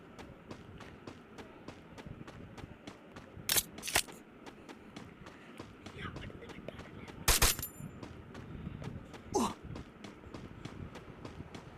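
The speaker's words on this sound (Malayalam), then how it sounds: "അയ്യോ, എന്നെ ആരെയൊക്കെ വെടിവെക്കുന്നത്?" Several loud bursts of game gunfire crack out at intervals over a steady run of quick rhythmic footsteps and a busy background.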